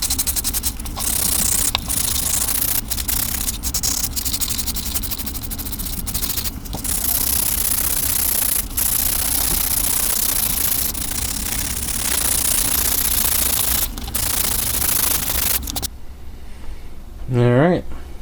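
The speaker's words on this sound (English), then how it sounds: "we'll see how it sands down here" Continuous rough hiss of sanding hardened filler on an old scraper being restored, a steady close abrasive rasp with brief pauses, ending in a short squeak.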